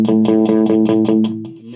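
Electric guitar played through a Blackstar Silverline Deluxe 100-watt head on its clean channel: a rapid run of eight evenly spaced picked notes with bright harmonics, then a ringing decay, loud and close.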